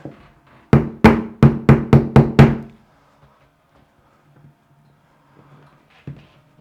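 Six quick hammer knocks tapping drywall anchors into a wall, in an even rhythm, close and sharp, then quiet with a faint bump near the end.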